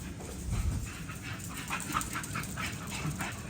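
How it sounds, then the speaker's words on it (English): Dogs bark and yip in a rapid, excited jumble, faint and somewhat distant, with low rumbling and scuffling underneath. "Crazy dogs."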